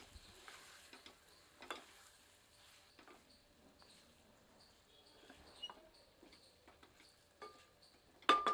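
Spoon scraping and stirring spices and garam masala through ingredients in a pan over medium heat, soft intermittent scrapes and ticks over a faint sizzle, with a sharper clatter at the end.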